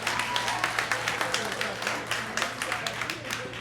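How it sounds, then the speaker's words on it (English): A comedy club audience claps along during a stand-up set. The quick, uneven claps sound close and moderately loud, under a voice talking and the murmur of the crowd. "Clap your hands if you have teenagers."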